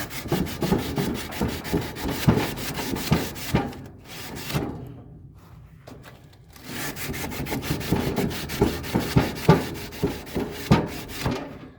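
A BBQ grill grate being scrubbed with crumpled tin foil and coconut oil, with rapid rhythmic rasping back-and-forth strokes close up, pausing for a few seconds midway before the brisk scraping resumes.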